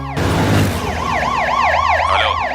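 Ambulance siren in a Bhojpuri-dubbed action film scene, a loud wailing siren sweeping up and down repeatedly over a low vehicle rumble, starting abruptly after a brief burst of noise.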